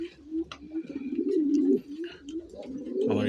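Desi (local-breed) pigeon cooing close by, a continuous low throaty warble rising and falling across several seconds, with faint chirps and other birds in the background.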